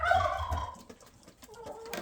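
A hen on a small farm gives a run of loud, close clucks and squawking calls while laying an egg, the calls rising and falling with short pauses, with no talking over them.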